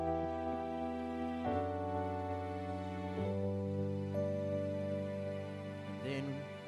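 A sustained pad from a Roland FA synthesizer with its filter cutoff opened, layered chords changing every couple of seconds, smooth and bright with a quiet, steady level and no speech.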